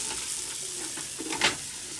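Celery and onion cook down slowly in a pot over low heat, giving a steady soft sizzle with light stirring scrapes and one louder clink near the end, and no voices.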